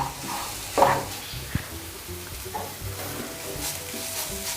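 Turmeric, chili, coriander and cumin powder masala is sautéed for an eggplant and paneer dish, with a low, steady sizzle broken by a couple of brief spatula scrapes, fairly quiet and close.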